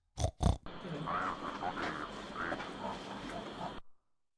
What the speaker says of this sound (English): then it makes a guttural grunting noise